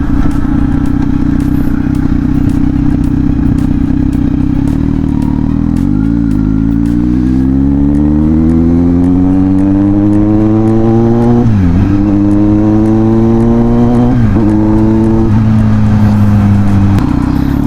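A Kawasaki Z900 big bike cruising on an expressway drones loudly and steadily, its engine note climbing through gears with brief dips at shifts and a faint crackle of exhaust pops over the wind.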